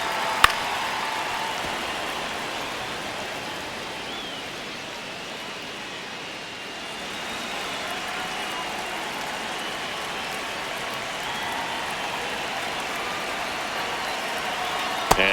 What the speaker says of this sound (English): You can see the crowd. They're starting to get into it a little bit more and more each pitch